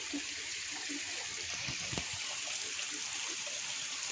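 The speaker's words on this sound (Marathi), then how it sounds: "पाणी ॲक्च्युअल मिनरल वॉटर खडकात इला पाणी आहे" Mineral water runs steadily out of rocks in a Konkan stream, a continuous soft wash of flowing water with a faint splash near the middle and no talking.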